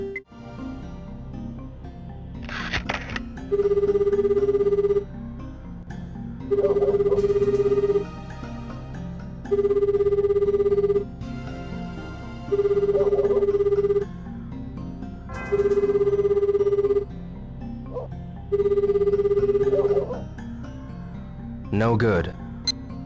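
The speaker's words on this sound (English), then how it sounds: "I'll give him a call and I'll see you once it's ringing" A telephone rings repeatedly in the Sega Dreamcast game Shenmue, a steady electronic tone in even bursts, six rings spaced regularly, with a voice talking over the background.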